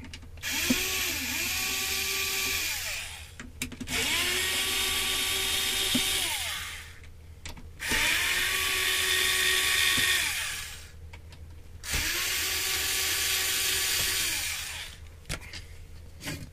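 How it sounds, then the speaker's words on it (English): Electric screwdriver driving screws into an EcoFlow River Extra battery, four loud whirring bursts that rise in pitch and wind down, separated by short pauses with small clicks. "we'll make sure the screwdriver is going in the right direction"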